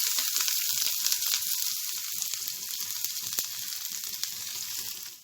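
Chopped onion frying in oil with popping mustard seeds for a chickpea dish, a close crackling sizzle full of sharp pops that thins slightly and cuts off at the end, no talking.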